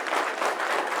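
An audience at a leadership talk claps together in a dense, steady wash of applause, with no voices over it.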